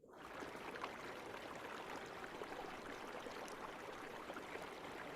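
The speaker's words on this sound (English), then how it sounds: "Hear the river flow humming softly." A river flows in a steady, unbroken rush of water, even and continuous throughout, with no voices.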